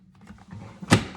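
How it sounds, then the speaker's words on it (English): The door of an air fryer snaps shut and locks with one sharp, close click-thunk, after a brief soft rustle of handling. "And then you just lock back up and door closes."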